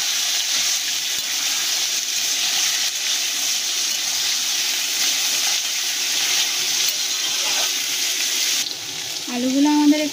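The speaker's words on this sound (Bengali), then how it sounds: "আলুটাকে আমরা ভালো করে ভেজে নেব।" Potatoes frying in hot oil with five-spice seasoning, giving a steady, close sizzle throughout, with brief stirring scrapes toward the end.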